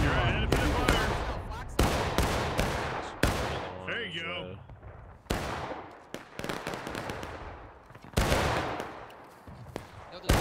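Volleys of musket gunfire in the Civil War shooter War of Rights, sharp loud cracks in irregular clusters, some near and some farther off, with a player's voice radioing briefly between shots.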